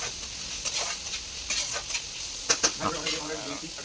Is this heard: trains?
no